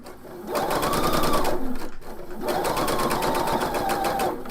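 A sewing machine stitches a shawl in two sustained runs with a rapid, steady mechanical chatter, close and clear, with a brief stop between them.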